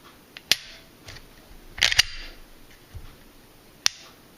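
A Glock 30 .45 ACP striker-fired pistol dry-fired, giving a few sharp isolated clicks of trigger break and reset, with a quick double click in the middle and a last click near the end against a quiet background.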